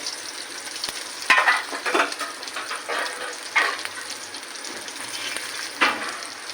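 Halved boiled eggs fry in oil in a kadhai, giving a steady close sizzle broken by several louder bursts as they are stirred or turned; no one speaks.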